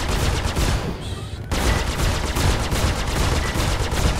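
Ship guns firing in Star Citizen, a loud, rapid stream of repeated shots that pauses for about half a second and then resumes in a steady, pulsing barrage.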